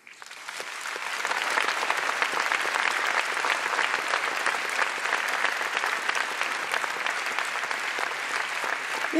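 A conference audience at the Katholikentag in Münster breaks into steady, sustained applause welcoming a cardinal onto a discussion panel, rising quickly and holding as a full, even clapping texture.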